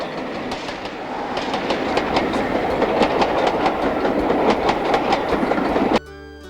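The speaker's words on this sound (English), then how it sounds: "the train passes over the swing bridge at the lock entrance" A train rumbles across a swing bridge at a lock entrance with steady rhythmic clickety-clack of wheels, loud and close, before the sound cuts off abruptly.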